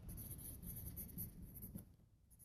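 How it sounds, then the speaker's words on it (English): A pen writing a name down by hand at a home bakery, giving a steady close scratching and rubbing for about two seconds before fading, with no talk. "I'm going to write that down."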